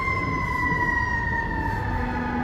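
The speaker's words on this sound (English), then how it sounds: "I hear a siren." An emergency vehicle siren wails steadily outdoors, its sustained tones holding over a rumbling background of traffic and wind for the whole stretch, moderately loud and unbroken.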